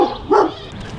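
A dog gives a single short bark close to the microphone outdoors at an RV stop, with a brief whimpering tail after it and no talking.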